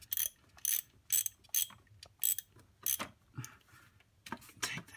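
Ratchet loosening bolts on the fuel injectors of a BMW engine, giving quick repeated clicking strokes in an uneven rhythm, close and moderately loud with no talk.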